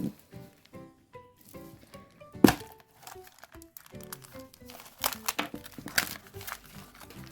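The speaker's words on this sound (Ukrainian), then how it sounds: "Ці капсули дуже складно відкриваються." Kinder Surprise Maxi capsule and foil wrapper being opened by hand on a table: close crinkling and rustling of foil with sharp plastic snaps and clicks, scattered bursts through the clip and no talk.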